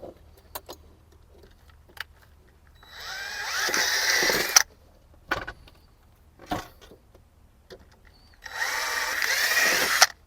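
Power drill boring through a cutting board while fitting a hinge, two loud whirring bursts of a few seconds each, separated by quiet handling clicks and taps.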